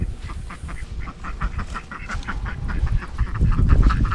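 Ducks quack and honk while being fed outdoors, several birds calling in a busy overlapping chorus that grows louder and nearer toward the end.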